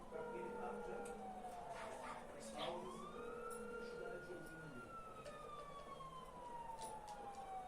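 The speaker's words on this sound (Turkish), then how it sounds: "polis nereden geliyor be?" A police car siren wails in the distance, its rising and falling tone sweeping through the scene over steady street noise, with a voice talking faintly under it.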